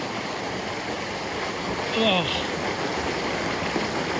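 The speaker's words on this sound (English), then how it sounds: "let's go through the waterfall" Water crashes down steadily as someone wades through a waterfall on Maui, a loud continuous roaring wash close by, with a brief voiced exclamation partway through.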